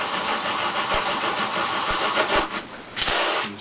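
A knife bevel rubbed back and forth on sandpaper for convexing, giving a continuous close, coarse scraping hiss with a few soft knocks as the stroke changes direction.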